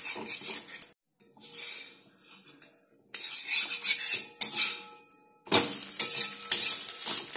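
Puffed-rice dibba rotti fries in an oiled pan while it is turned over, giving a soft sizzle broken by metallic scrapes and clinks of a utensil against the pan, with short pauses between bursts and no talking.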